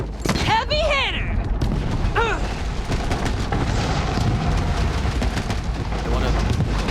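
Moze's launcher in Borderlands 3 on Mayhem 3 fires explosives, giving heavy booms and sweeping whooshes in a loud, continuous barrage of game combat noise.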